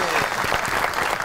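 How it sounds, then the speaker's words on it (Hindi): Studio audience applause during a Pakistani comedy talk show, steady dense clapping filling the whole moment with faint voices mixed in. "आपकी बहुत सी तालियों में the one and only Nurul Hera."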